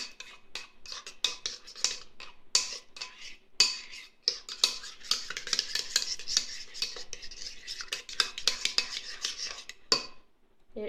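A spoon stirs a natural yogurt face mask in a bowl, making rapid, close clinking and scraping strokes that continue steadily for several seconds before stopping.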